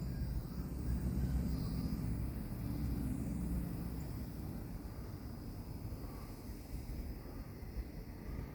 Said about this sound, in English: It sounds like some old style warbirds.